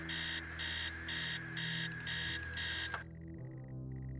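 Electronic alarm clock in the video game Stories Untold, loud pulsing beeps in steady bursts that cut off abruptly after about three seconds, leaving a low hum.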